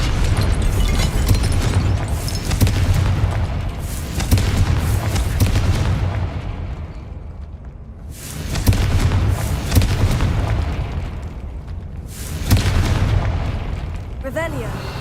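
Confringo, an explosive fire spell in the Hogwarts Legacy video game, goes off as loud booming blasts. Several heavy rumbling bursts roll and fade in turn.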